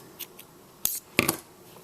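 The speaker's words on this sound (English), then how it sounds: "And we're going to cut our yarn." Scissors snip through crochet yarn at the end of a slip stitch, a few short crisp cuts close to the microphone over near silence.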